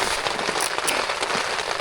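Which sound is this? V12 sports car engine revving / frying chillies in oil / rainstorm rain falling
rainstorm rain falling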